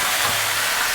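Cauliflower pieces hit hot oil in a pan for a Bengali fish curry, producing a loud, dense, continuous sizzling hiss that holds steady without break.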